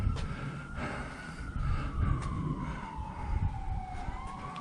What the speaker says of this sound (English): there's been a lot of ambulances in the last 30 minutes